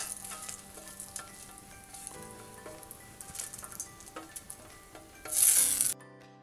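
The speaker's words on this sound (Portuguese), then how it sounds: "A gente vai dar uma salteada agora nessas sementes com um pouco de azeite." Seeds sautéing in olive oil in a pan, a continuous crackling sizzle with stirring scrapes and a few utensil knocks, close and loud, swelling briefly near the end before cutting off.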